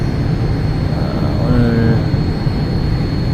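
Steady, loud engine roar and airflow fill an airplane cabin on approach to Incheon Airport, a continuous broadband drone with a faint tonal whine that holds level throughout, with no talk.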